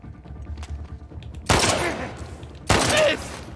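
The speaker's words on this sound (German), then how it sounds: "Ich habe ihn zwischen die Beine geschossen." Two loud, sharp gunshot blasts in The Last of Us Part 2, about a second apart, each followed by a ringing decay over quieter game ambience.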